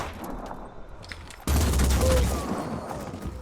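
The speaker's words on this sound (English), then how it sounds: "2 ill-advised pistol shots." Pistol shots fired in the video game Phoenix Point, a sudden loud blast of gunfire that cuts in after a quieter stretch and lingers as dense, booming combat noise.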